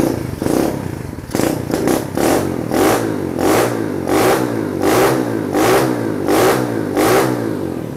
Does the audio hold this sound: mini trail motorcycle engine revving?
yes